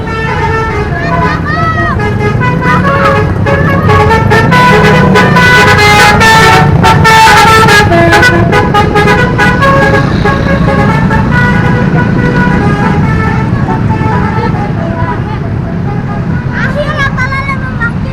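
Palala bus sounding its telolet horn in a melodic, continuous run of tones, loud and close, surrounded by road noise and a crowd with dozens of motorcycle escorts, while people talk and shout throughout.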